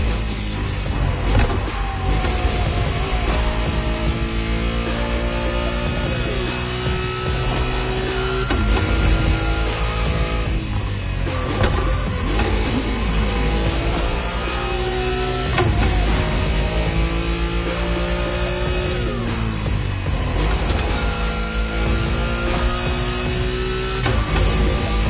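A Nissan Skyline engine in The Crew Motorfest racing game drones loud and steady, revs climbing and falling through gear changes in a continuous high-speed run.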